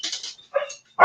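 A dog lets out a few short, excited barks and yips up close, separated by brief silent gaps, with one more sharp bark starting at the end.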